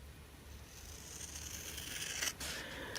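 Scissors trimming the top edge of a paper envelope for a journal craft, a soft close snipping and paper rustle that ends in one brief sharper cut near the end, alone in a quiet room.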